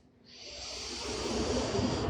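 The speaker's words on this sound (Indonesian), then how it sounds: "Tarik nafas, rasakan tubuhnya mengembang" A deep breath drawn in during a hatha yoga session, a steady rising airy hiss that swells over about two seconds, close and alone.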